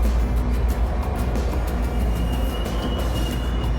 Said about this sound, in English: our train finally showed up on track 1